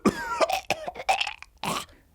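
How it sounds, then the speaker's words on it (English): A man on a subway train coughs several times in quick succession, close and fairly loud, with a harsh throat-clearing burst at the end and no talking. "Elaine noticed a man who wasn't covering his cough."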